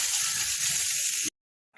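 Greens (shak) fry in hot oil with chilli powder, turmeric and spice powder, giving a steady dense sizzle that cuts off abruptly to silence, then briefly returns at the end.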